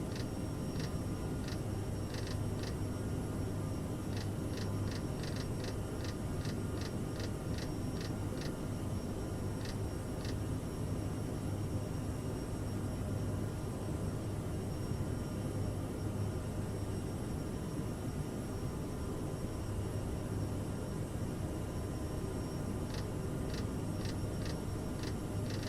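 Steady airliner jet engine roar from a CRJ regional jet at climb power in Microsoft Flight Simulator 2020, a constant broadband drone with faint repeated ticking clicks over it.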